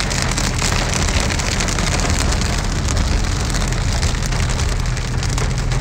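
Heavy monsoon-like June rain pours down in Big Bear, California, a loud, steady, unbroken downpour hitting surfaces up close for the whole stretch, with no voices.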